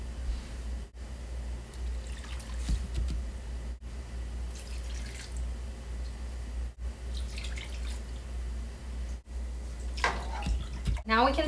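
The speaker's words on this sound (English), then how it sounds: "I'm going to use the can to fill it up with water so that all of my ingredients are submerged" Water pours from a can into a soup pot for Lao bamboo soup, heard as several separate splashing bursts over a low, steady background hum.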